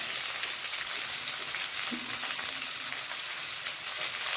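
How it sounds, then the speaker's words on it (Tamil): Onions sauté in a hot pan for a moringa flower stir-fry, giving a steady, even crackling sizzle from close by throughout, with a faint clink partway through and no talking. "எல்லாமே நல்லா கொஞ்சம் லைட்டாக வதக்கட்டும்."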